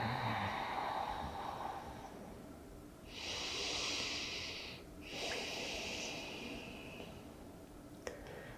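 Slow, deep breaths in a quiet yoga relaxation pose on the floor, two long airy exhales in succession, faint and close with no talking.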